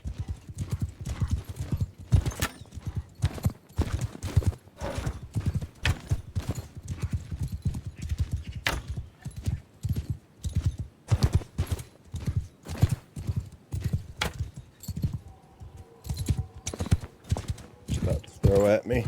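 A horse gallops in the video game Mount & Blade II: Bannerlord, with a steady, rapid clip-clop of hooves running throughout, a brief whinny, and someone talking over it.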